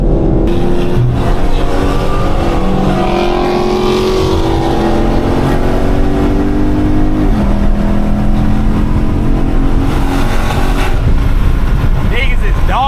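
A Dodge Scat Pack engine revs loudly and close, its pitch sweeping up and down through a continuous roar, with people talking over it.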